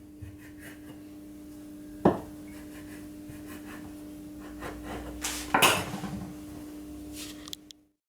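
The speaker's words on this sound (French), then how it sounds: "je la sépare en deux et encore en deux." A sharp kitchen knife cuts a sheet of brick pastry on a board, giving two distinct chopping knocks a few seconds apart. Softer scraping and handling noises sit over a low steady hum.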